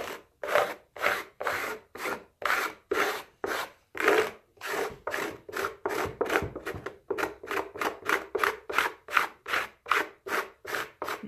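Excess mortar is scrubbed off a dollhouse brick wall in quick rasping strokes, about thirty in a row. The strokes follow a steady back-and-forth rhythm with one brief pause, close and moderately loud.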